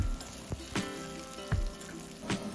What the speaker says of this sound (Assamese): কাটি থোৱা পিঁয়াজ দিলে আৰু এইখিনি অলপমান ভাজিলে